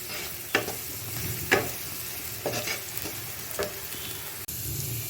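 Onion and garlic browning in a pan for a Bangladeshi bean and potato dish, sizzling close by while a spoon scrapes through in several distinct strokes, no voices.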